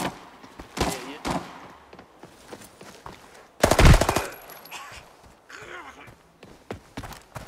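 Sharp bursts of gunfire crack out in the video game Arena Breakout, with one loud rapid volley mid-clip among scattered shots and quieter game sounds.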